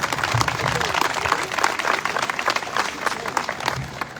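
A crowd at a PIT-CNT union rally in San José applauds in a dense, continuous burst, with scattered cheers and voices mixed into the clapping.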